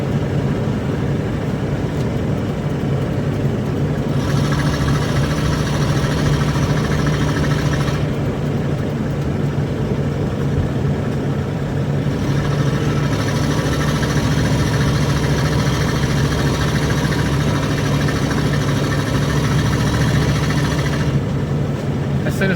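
An RV engine drones steadily while driving through traffic on a causeway, a loud continuous low hum with road noise that shifts slightly in tone as it moves along, no voices heard.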